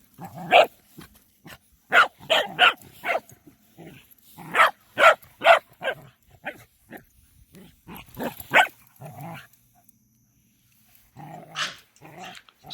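A herding dog barks loudly and aggressively in close, rapid bursts and clusters, with growls mixed in and a brief quiet gap before a final volley.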